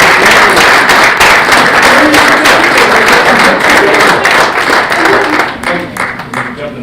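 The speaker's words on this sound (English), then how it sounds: "So please give everyone up here a round of applause." A room at a town council meeting bursts into a round of applause, crisp overlapping claps holding steady before thinning out near the end, with voices murmuring underneath.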